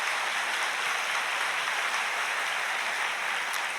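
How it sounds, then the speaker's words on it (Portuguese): A church congregation applauds for the Lord during a sermon, a steady, even wash of many hands clapping at a moderate distance, continuous throughout with no voices standing out. "Dá uma glória, uma salva de palmas aí para o Senhor"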